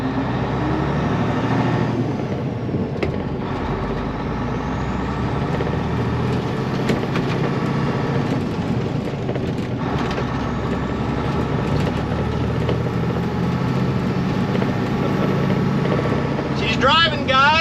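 A 1993 Peterbilt cabover truck running under its own power, a steady low engine rumble and road drone filling the clip, with people talking over it.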